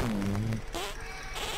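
Comedic fart sound effects are layered over a live game stream, a low buzzy, tonal blurt followed by a few sputtering bursts, fairly loud above a busy game-audio backdrop with no voices.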